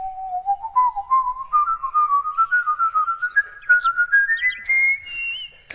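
A single person whistles a clear, steady melody that climbs gradually in pitch, with short rhythmic notes and no other sounds.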